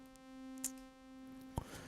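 A sustained synthesizer pad tone with a slightly detuned second oscillator holds steady and faint throughout, with a couple of brief clicks near the start and end.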